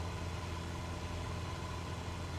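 Aircraft engine in a flight simulator game, droning loud and steady with the cabin door open, a constant low rumble with no talk over it.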